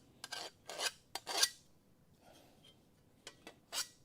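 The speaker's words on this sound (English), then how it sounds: "So I know I'm dragging the file backwards." A metal file dragged backwards across a rusty Dodge crew cab truck panel in a shop: close, harsh rasping strokes in uneven bursts, several grouped together with a quiet gap between them.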